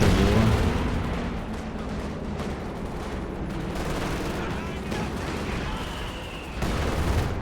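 An artillery barrage in a World War II strategy game: a dense, continuous roar of overlapping shell blasts and gunfire that stays loud throughout and surges again near the end.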